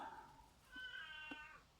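A house cat meows softly, two short quiet calls in quick succession with faint small knocks between them, in an otherwise quiet indoor room.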